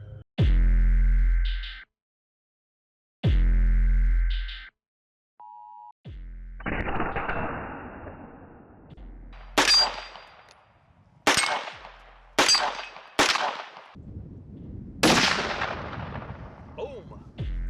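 9mm gunshots ring out through a SilencerCo Omega 300 suppressor, several sharp, loud reports spaced a second or two apart, each trailing off in a short ringing decay, after two long steady electronic tones at the start.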